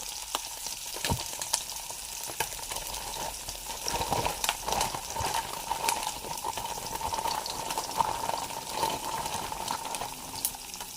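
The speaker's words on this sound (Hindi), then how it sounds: "बस हल्के से सॉटे करना है, इसको कोई खास गलाना नहीं है" Frozen chicken chunks sauté in a hot pan with steady, crackling sizzle and occasional stirring clicks throughout.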